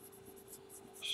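A pencil held nearly on its side shades a daisy stem on paper, soft scratchy strokes repeating in a slow, even rhythm, close and quiet over a faint steady hum.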